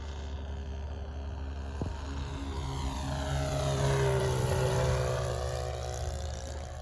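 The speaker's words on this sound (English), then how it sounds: "These 4-strokes are a lot quieter than the 2, but it does have a nice 4-stroke sound." Four-stroke engine of a Sig Four Star RC model airplane in flight, a steady mid-distance drone that swells louder in the middle and shifts pitch as the plane passes, then eases slightly.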